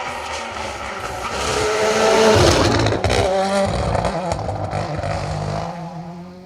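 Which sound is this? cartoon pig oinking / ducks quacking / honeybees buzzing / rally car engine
rally car engine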